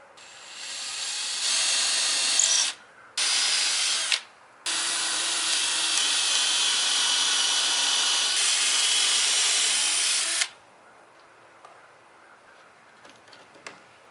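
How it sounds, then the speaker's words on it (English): A power drill bores a pilot hole for hanging patio string lights, whining in three bursts, two short and one long steady run, before stopping and leaving near silence. "I'll know where I need to pre-drill here, pilot hole"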